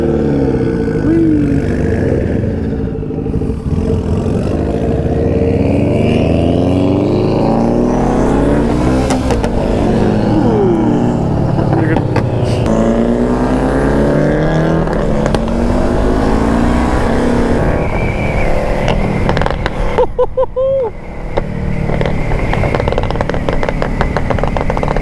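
A loud Mitsubishi Lancer Evo engine revs hard and close by, its pitch climbing and falling through repeated surges over a steady, heavy exhaust roar, with no talking.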